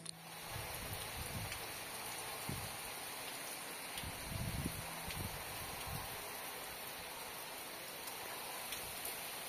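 Rain falls steadily on a rainy day at a village home, a soft continuous patter with occasional louder drops and thuds nearby, no voices.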